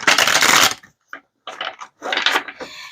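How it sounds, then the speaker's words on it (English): Tarot cards shuffled by hand, several short crisp riffling bursts separated by brief silences, close and fairly loud. "Let's give it one more shuffle."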